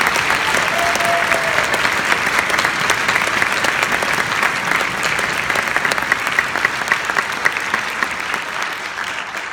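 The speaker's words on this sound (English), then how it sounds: "I'd like you to give him a round of applause" Loud, sustained applause from the audience at a high school symphonic band spring concert, a dense even wash of clapping that continues for the full length and tapers slightly toward the end.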